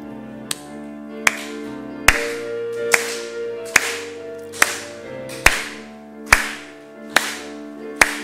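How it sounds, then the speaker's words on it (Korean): At a church service, sharp claps land at a slow, even beat, about ten in total, each ringing against a sustained hymn accompaniment. "함께 부르는데 박수 치면서 찬송하는 시간을 좀 갖겠습니다."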